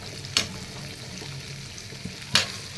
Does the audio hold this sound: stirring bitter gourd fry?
yes